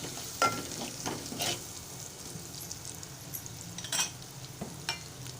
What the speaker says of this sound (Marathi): एक चमचा मालवणी मसाला घालत आहे एक चमचा मीठ घालत आहे मिश्रण एकजीव करून घेत आहे